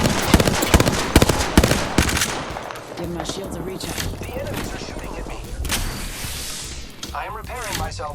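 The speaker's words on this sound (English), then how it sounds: "The enemies are shooting at me" Rapid enemy gunfire crackles in bursts during an Apex Legends match, loud volleys at first then thinner shots, with in-game voice lines spoken over it.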